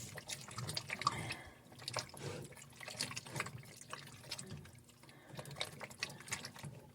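Butter and pasta stirred in a cooking pot for pasta con broccoli, with continuous scraping, wet clinks and sloshing that rise and fall in an irregular rhythm, close but fairly quiet, with no talking.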